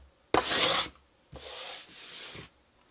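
A steel card scraper pulls shavings off a wooden surface in two close, rasping strokes, the first sharper and louder, the second longer and softer, with quiet gaps around them.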